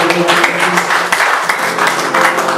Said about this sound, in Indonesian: Sama-sama boleh kasih tepuk tangan yang terbaik saudara.